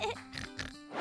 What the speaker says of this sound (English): That was definitely George's oink.